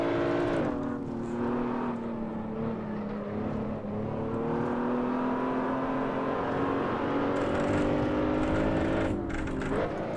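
A racing car's engine in the Assetto Corsa driving game drones steadily with shifting pitch, revving up and easing back through gear changes, loud and continuous for the whole stretch.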